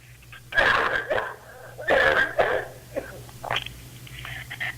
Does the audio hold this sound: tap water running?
no